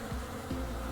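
An angry swarm of bees buzzing after their hive is punched in the survival game Vintage Story, a steady close droning hum with rising and falling wingbeat sweeps, alone without talk.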